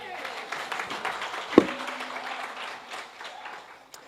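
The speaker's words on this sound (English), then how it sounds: "you wanted to clap?" An audience at a university speaking event claps in steady, moderately soft applause that fills the room, with a sharp knock partway through.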